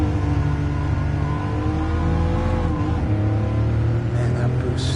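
Race car engine in Gran Turismo Sport with punchy turbo boost, a loud sustained high-revving drone with shifting engine tones through acceleration, continuous from start to end.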